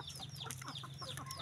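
Chickens on a small chicken farm in La Union cluck steadily at feeding time, several birds close by making overlapping short calls over a low constant hum.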